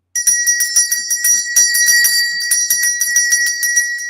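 A bell rings repeatedly in a quick, uneven run of bright strikes with sustained high ringing tones, loud and close, during an event.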